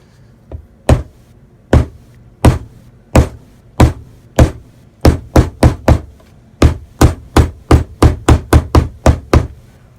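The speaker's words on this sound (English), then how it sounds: "might use the mallet, give them a little tap" Soft mallet tapping frets into the neck of a 1965 VOX Apollo IV bass, a steady series of about twenty sharp, close knocks, some spaced and others in quick clusters.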